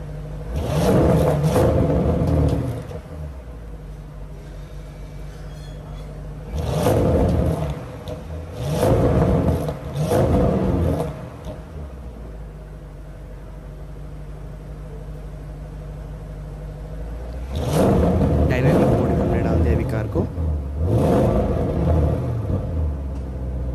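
A 2021 Audi RS6 Avant engine gives several loud revving bursts, in one cluster at the start, a pair near the middle and another cluster later, separated by a deep, steady idle rumble with no talking.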